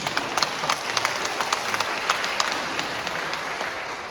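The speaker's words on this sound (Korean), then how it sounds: "여러분 박수 한번 보내주세요" A church lecture audience claps together in a sustained, steady round of applause, dense and fairly close, with no voices over it.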